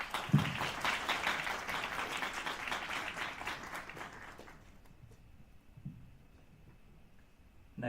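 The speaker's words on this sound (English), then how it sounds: "Give them a round of applause so they can set up." An audience applauds a team presenting its project, steady clapping that runs for several seconds before fading out, fairly distant and soft in a presentation hall.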